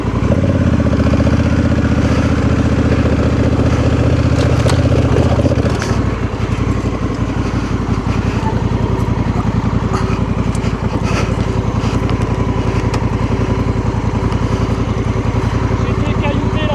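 A Honda Africa Twin with an automatic gearbox rides along a mountain track in the Spanish Pyrenees, its engine droning loud and close with rough clattering from the trail, while people talk over it.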